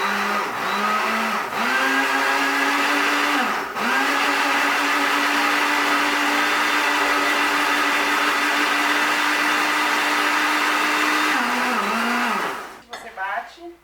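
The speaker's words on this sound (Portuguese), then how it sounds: "Tudo junto aqui no liquidificador." An electric blender whirs loudly and steadily, mixing a bread batter of margarine, salt and other ingredients, with its pitch dipping briefly a few times before it winds down and stops.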